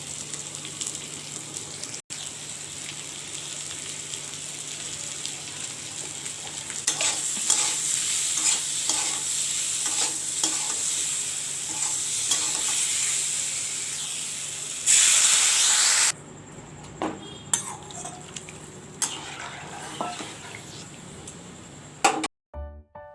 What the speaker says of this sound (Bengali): তারপরে জল ঢেলে দেবো।